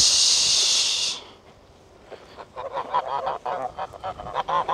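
Ducks on a cow farm quack and honk up close in a rapid run of repeated nasal calls. A loud hissing noise comes just before the calls.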